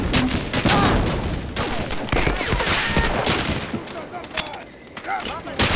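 Battle noise in Medal of Honor: Allied Assault, a World War II shooter game: loud grenade blasts and rolling rifle and machine-gun fire crowd the scene continuously, with a player's voice heard over the combat.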